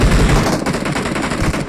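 Loud, rapid bursts of automatic gunfire in BGMI rattle continuously, close and punchy, with a game-like crackle and no voices.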